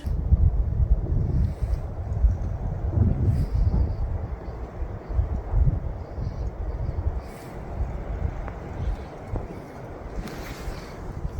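Steady wind blows and rustles through trees outdoors at the ancient city of Neapolis in gusts, with a low rumbling roar that eases slightly toward the end; no voices.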